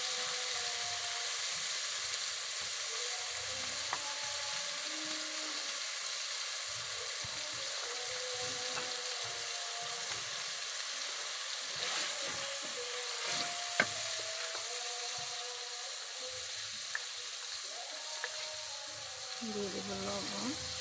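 Onion and ginger-garlic paste fry in a pan for a jackfruit and meat curry, a steady soft sizzle with occasional faint clinks, while a voice speaks quietly in the background.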